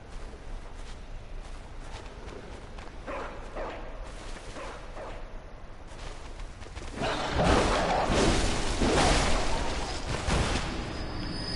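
Attack dogs in the Bloodborne video game bark and yip over a dense layer of game noise, with a cluster of repeated barks that swells louder toward the end.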